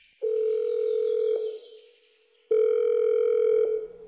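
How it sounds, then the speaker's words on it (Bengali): Telephone dial tone while placing a call to a police station, heard as two long steady tone bursts with a short gap between them, clear and close, with no talk over it. "ওসিকে ফোন করলো"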